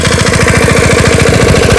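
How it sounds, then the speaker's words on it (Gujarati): A homemade single-furrow 5 horsepower mini tractor engine runs close and loud, its rapid even chugging pulses thumping steadily throughout with no talking. "આ ટ્રેક્ટર છે 5 હોર્સ પાવરનું, જે સિંગલ હાર જ નીકાળે છે અને દેશી પદ્ધતિથી બનાવેલું છે."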